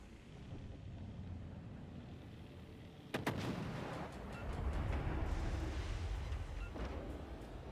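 Naval shell fire in a World of Warships Legends battle: a sharp, heavy boom lands near three seconds and another near seven, each followed by a rumbling tail over a low, constant background drone.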